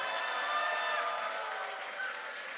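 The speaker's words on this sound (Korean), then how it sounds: "많이 박수 보내주셨는데요" An audience at a party's 70th anniversary ceremony gives a brief, soft wash of applause, steady and diffuse, heard from a distance in a large hall with no clear individual claps.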